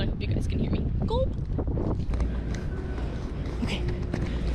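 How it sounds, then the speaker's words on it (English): Strong wind buffets the microphone outdoors near a store, a loud continuous rumble under someone talking throughout. "It's like super windy, so I hope you guys can hear me."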